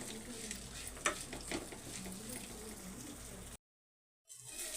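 Peas, green chillies, onions, curry leaves, peppercorns, cumin and cloves fry lightly in a pan with a steady close sizzle and a few soft stirring scrapes, cut by a brief silence near the end.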